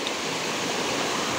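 Heavy rushing roar of floodwater pouring through a drain after a night of heavy rain, loud, dense and constant throughout, with no one speaking.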